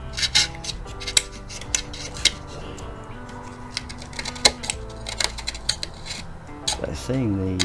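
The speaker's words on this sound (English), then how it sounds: "filing it down takes quite a while" Repeated scraping and rasping strokes of filing wood on a model ship kit, irregular and fairly close, with clattery knocks and a few tonal squeaks mixed in.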